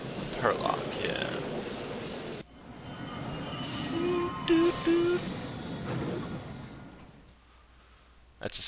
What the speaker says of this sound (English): That's the sound of a subway, by the way.